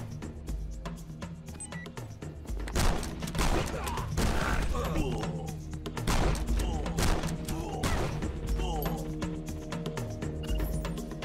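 In the action game Rocketbirds, a shotgun fires again and again as loud, punchy blasts spaced a second or two apart. Each shot has a sharp crack and a rumbling tail, set over steady game noise.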